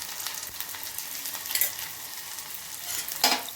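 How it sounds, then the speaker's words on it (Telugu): A spoon stirs turmeric into dal simmering in a pan, giving a soft continuous sizzle with a couple of brief louder scraping strokes near the middle and end, close and fairly quiet. "పసుపు వేసాను కదా, కలిపేసుకున్నాను"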